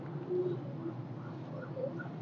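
Rampuri pigeons coo softly in a steady, low murmur, several birds overlapping at close range with no talk over them.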